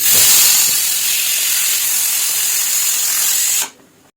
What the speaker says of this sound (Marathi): आपल्या कुकरच्या तीन शिट्ट्या झालेल्या आहेत